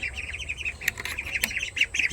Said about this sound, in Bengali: যে আমি ইনকিউবেটর থেকে যে হাঁসের বাচ্চাগুলো ফুটিয়েছিলাম তোমাদেরকে দেখাই